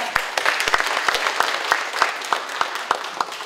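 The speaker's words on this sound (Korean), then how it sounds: "여러분 뜨거운 박수로 부탁드리겠습니다." Audience applause for a speaker at a National Assembly forum on a peace park, a loud, dense burst of clapping with distinct individual claps throughout.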